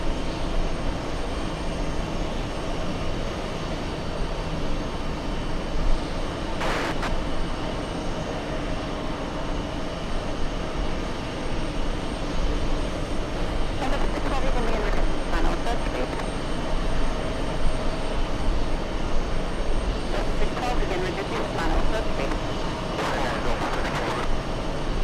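Small propeller plane at JFK airport, its engine a steady, loud drone that fills the whole stretch, rising a little at moments, with people talking over it.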